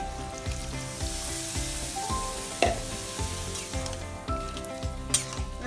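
Ginger and leaves sizzle steadily in a hot pan, a continuous close frying hiss with occasional utensil clinks, while a tonal music bed plays underneath.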